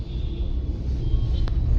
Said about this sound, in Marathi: फुल ट्रॅफिक आहे रे.